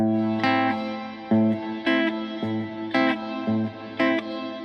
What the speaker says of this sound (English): you can hear that delay before the reverb comes in.